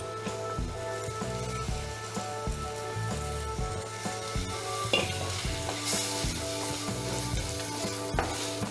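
Bitter gourd being sautéed in a pan for a South Indian curry, a constant close sizzle broken by regular scraping strokes of a stirring spoon.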